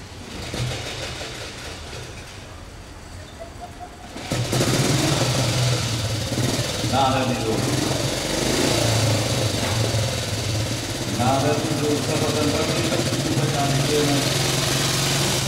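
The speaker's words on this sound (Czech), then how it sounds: "Ještě jednou si vykutáme start tohoto nádherného motoru" A vintage BSA motorcycle engine is kick-started at the Oldtimer Bohemia Rally concours d'elegance. After a quieter stretch it bursts into life about four seconds in, then keeps running loud and rough with a low throbbing hum while voices talk nearby.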